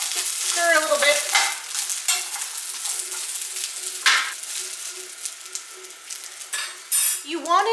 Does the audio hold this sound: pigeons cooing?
no